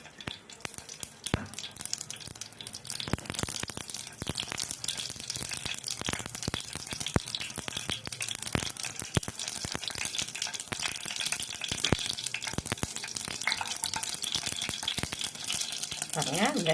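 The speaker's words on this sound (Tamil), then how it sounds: "எண்ணெய் காஞ்ச உடனே கொஞ்சம் கடுகு போட்டுடுவோம்." Mustard seeds hit hot oil in a steel kadai, giving a steady crackling sizzle with dense popping spatter throughout, fairly close but moderate in level. No one speaks.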